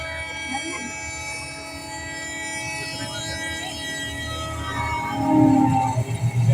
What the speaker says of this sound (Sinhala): බලන්නකො කොච්චි සෙල්ලම් කොච්චිය හරි ලස්සනයි නේද